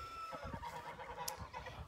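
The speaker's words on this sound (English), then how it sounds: "But we have the geese out here," Geese on a farm give faint, low honks and clucking calls in short bursts, somewhat distant against quiet outdoor background.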